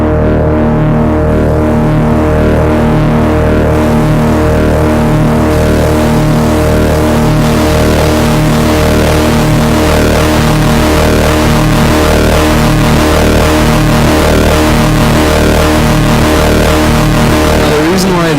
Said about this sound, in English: So basically what it does is it makes it really distorted and adds a lot of noise to the signal.